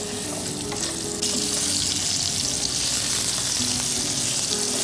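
Potatoes sizzle loudly in hot oil tempered with whole spices as they are stirred in the pan, a dense steady frying hiss that jumps louder about a second in and then holds with light scraping.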